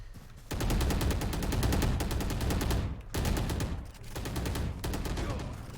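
Rapid automatic gunfire rattles in long, loud bursts during a Valorant esports match, with a brief pause between sprays.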